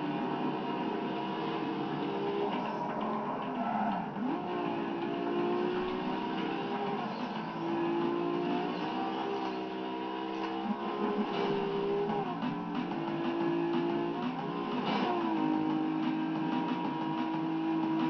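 Racing car engine in the video game Need for Speed Carbon, played with a Wii wheel: a steady droning engine note with shifting pitch sweeps as the car accelerates and changes gear, continuous and fairly quiet.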